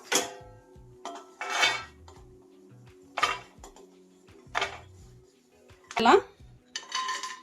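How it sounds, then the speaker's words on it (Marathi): Roasted dry fruits are scooped from a pan onto a plate, giving a series of separate metallic scrapes and clinks of a spoon against the pan, close and spaced a second or so apart. "मी आता काढून घेते एका ताटामध्ये ड्रायफ्रुट्स काढून घ्यायच्यात"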